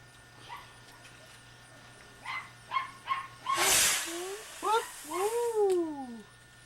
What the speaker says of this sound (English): the dog's in there and barking